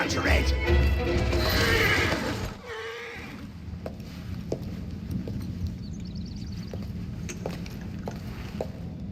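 A horse neighs loudly in a London street scene from Assassin's Creed Syndicate, followed by the steady clip-clop of hooves as it pulls a cart, with a voice briefly heard over the start.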